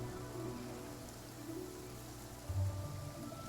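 Night rain falls over Liyue Harbor in Genshin Impact, a steady soft patter of drops on surfaces layered over a low ambient music bed, even and unbroken throughout.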